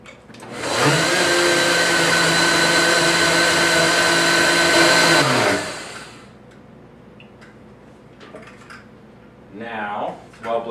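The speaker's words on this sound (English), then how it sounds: "so I'm gonna put this into the blender." Blender whirring through a spinach souffle mixture, a loud steady motor roar lasting about five seconds before spinning down, followed by quiet kitchen handling and a voice starting to talk.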